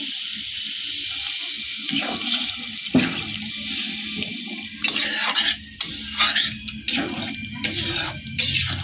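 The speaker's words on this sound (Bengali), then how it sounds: "এখন আমরা জল একটু দিয়ে দিচ্ছি।" Water poured into a pan of frying country chicken masala curry, a hissing sizzle and bubbling gush that comes in bursts alongside clinks of a utensil against the pot.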